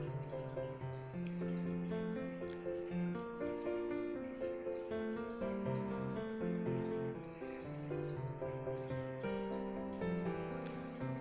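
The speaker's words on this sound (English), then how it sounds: "Today I am going to do potato fry, so that I am washing the potatoes and peeled out its skin." Peeled potatoes washed in a kitchen, with continuous running and splashing water throughout under a layer of music.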